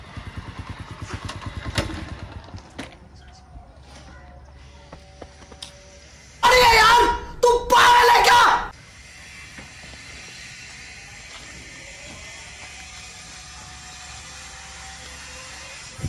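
A motorcycle ridden along a road, its engine droning steadily beneath people talking, with a loud burst of mechanical noise midway before the engine settles back to a lower, quieter idle as the bike slows to a stop.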